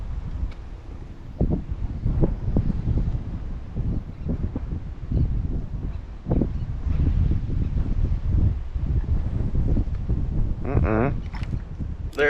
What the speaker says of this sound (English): Here we go with the wind.